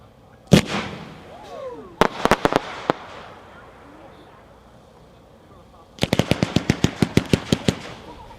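A 13-shot 30 mm fireworks cake slab fires in bursts of rapid sharp cracks and bangs, with an opening boom, a cluster of reports, then a dense rapid volley later, echoing outdoors at moderate distance.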